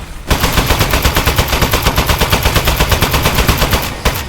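Rapid automatic gunfire in the video game Aperture Desk Job, a loud, sustained burst of evenly spaced shots lasting about four seconds, cutting off abruptly with one final shot.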